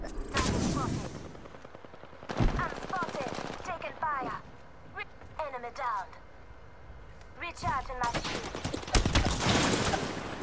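Bursts of gunfire from an Apex Legends match crackle in several loud volleys, the heaviest near the start and again toward the end, mixed with game effects and voices.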